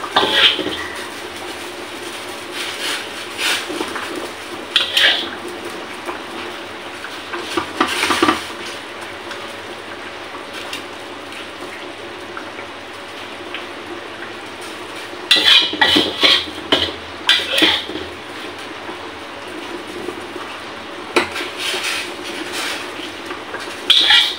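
Pots and pans clatter and metal utensils scrape and clink while cooked milkfish for sinigang is moved from a frying pan into a cooking pot, in irregular close bursts over a steady kitchen hum.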